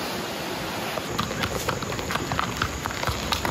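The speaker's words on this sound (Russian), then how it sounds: "Козы вон идут толпа." A herd of goats passing by on a road in Abkhazia, their hooves making rapid, overlapping clattering steps at close range over a steady background hiss.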